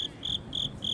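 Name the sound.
cricket chirping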